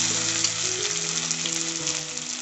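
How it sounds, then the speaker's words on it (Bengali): Mashed jackfruit seeds with green chilli paste frying in a pan and being mixed with spices, a loud, dense, continuous sizzle close up, with faint stirring and a steady tonal hum underneath. "মশলাটার সাথে খুব ভালোভাবে মিক্স করে একটু কষিয়ে নেব"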